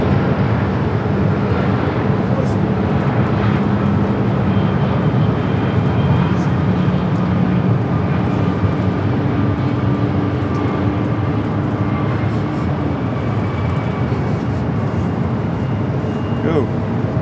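A Delta Boeing 757-200 arrives at Los Angeles International Airport, its jet engines making a loud, steady roar that fills the whole stretch, with voices talking over it.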